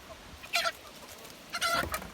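Chickens establishing a pecking order let out two short bursts of clucking and squawking about a second apart, fairly close, over quiet background noise.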